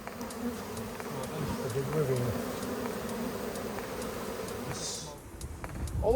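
Honeybees buzz in a dense, continuous drone during a removal from a flat roof with fresh comb and honey, close and steady throughout with faint background noises.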